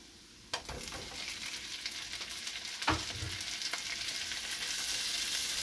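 Shrimp dropped into a hot pan with browned garlic, hissing into a steady sizzle with a few stirring scrapes, close and fairly quiet, no voices.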